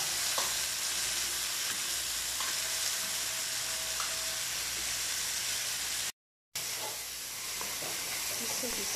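Chicken and tomato sautéing in a pan for a zucchini dish, a steady close sizzle and frying hiss running continuously, with occasional stirring clinks and a brief gap in the sound.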